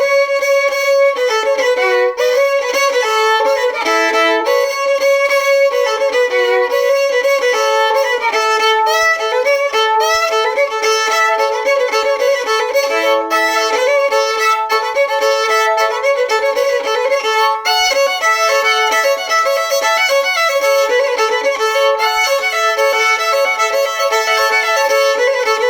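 Solo fiddle playing the old-time tune Grigsby's Hornpipe at a brisk, steady pace, bowed notes running continuously and clearly up close with no talking.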